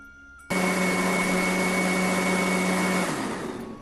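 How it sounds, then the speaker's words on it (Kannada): A mixer grinder whirs loudly at close range as it grinds masala for vegetable sagu, starting abruptly with a steady high motor whine, then winding down near the end, with no voices. "ಇದನ್ನು ರುಬ್ಬಿ ಎತ್ತಿಟ್ಕೊಳ್ಳೋಣ"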